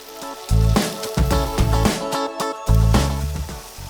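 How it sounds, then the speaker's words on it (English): Pani puri dough shapes fry in hot oil in a pan over medium flame, giving a close, loud, crackling sizzle that surges in bursts as pieces are stirred or added. "So you have to fry it. Do not over fry it."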